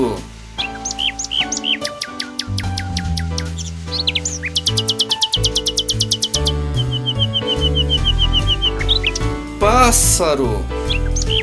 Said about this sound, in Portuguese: pássaro